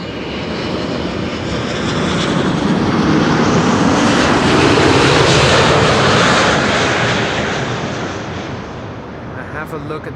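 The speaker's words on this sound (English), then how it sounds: "Saudia 747 should not be too far out any longer" A Saudia Boeing 747 arriving at Amsterdam Schiphol rumbles overhead in a loud, broad jet roar that swells to a peak midway and then gradually fades.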